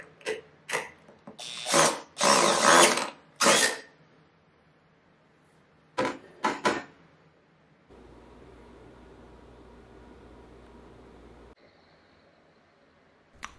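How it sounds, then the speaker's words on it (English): A ratchet tightens a 14 mm bolt on a Cobra Class 26 sewing machine during assembly, giving several bursts of loud clicking ratcheting in the first seconds, a few shorter bursts later, then a low steady mechanical hum. No one speaks. "then you can tighten the 14 millimeter bolt"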